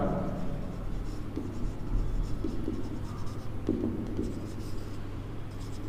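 Marker or chalk writing on a board during a lesson on vector projection formulas, a continuous faint scratching and tapping texture with steady background hum throughout.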